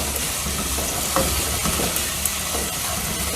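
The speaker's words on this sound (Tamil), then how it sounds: "தக்காளி போட்டு இப்போ வதக்குறோம்" Tomatoes sautéing in a hot pan with oil for a kadappa gravy, a dense continuous sizzle and hiss with occasional stirring scrapes, close and loud, no voices.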